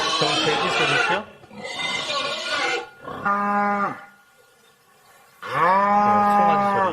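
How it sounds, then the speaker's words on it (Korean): A calf moos in a played recording, in several loud, drawn-out bleating calls with short gaps between them. The calls are close and clear, with no talk over them. "송아지 소리."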